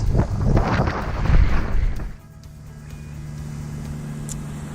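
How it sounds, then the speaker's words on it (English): Loud wind rushing over the microphone aboard a boat crossing Hecate Strait for about two seconds, then dropping to a steady low rumble with a faint hum underneath. "it looks like it's getting awful windy"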